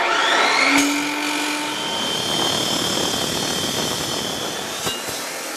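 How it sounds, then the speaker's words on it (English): Abrasive cut-off saw biting into metal in a home metal shop, a loud, close high-pitched motor whine with dense grinding roar from the disc that holds steadily for several seconds. "cutting with an abrasive cut-off saw or a cut-off disc on your angle grinder is great"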